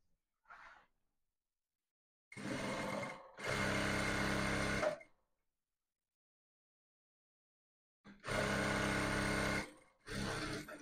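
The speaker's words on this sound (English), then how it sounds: "then sew up that part just as how we did the armhole" A sewing machine stitches a fabric seam on a buba top, with short and longer bursts of rapid mechanical whirring separated by pauses of silence, close and clear.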